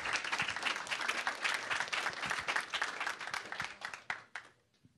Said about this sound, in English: More applause, thank you.